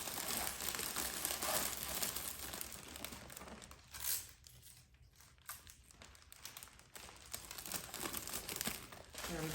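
Wrapping paper crinkling and rustling while tape is applied to a gift basket, with close, continuous crackly handling noise that eases briefly midway before picking up again.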